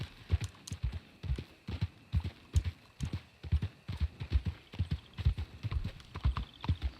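Steady clip-clop of a horse's hooves at a trotting rhythm in the video game Red Dead Redemption 2, close and clear, with no voices.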